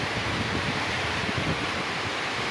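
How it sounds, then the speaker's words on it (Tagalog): Strong storm wind roaring steadily as a broad, dense rush close to the microphone, buffeting slightly without pause for a few seconds, with no talking. "Napakalakas ng hangin."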